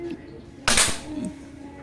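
One sharp, close crack from a Manlapat CO2 hammer-type long-tank air rifle firing a pellet, a single brief burst against a quiet outdoor background.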